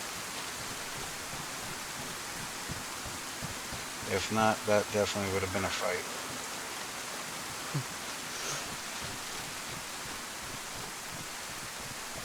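Rain falls in the video game DayZ (Vanilla 1.12) as a steady, even hiss throughout, with a brief stretch of speech over it partway through.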